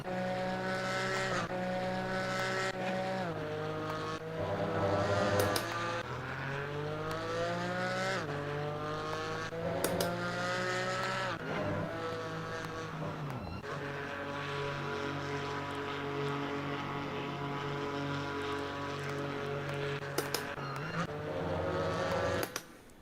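Race cars in Assetto Corsa Competizione, a McLaren 570S GT4 battling a Porsche at Imola, engines droning loud and steady with rising and falling pitch sweeps through gear changes, no talk.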